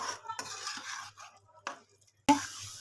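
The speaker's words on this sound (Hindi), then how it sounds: "तो अब इसमें पालक डाल देंगे हम अपनी ये सारी इस तरह। और अब आपने इसे अच्छी तरह से भून लेना है" Spinach being stirred and fried in a pot for mutton palak gosht, with intermittent scraping and soft clinks of a spoon against the pot and one sharp metallic knock near the end.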